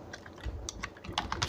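Someone types on a computer keyboard, tapping several quick keystrokes at an uneven pace, close and soft, with no talking.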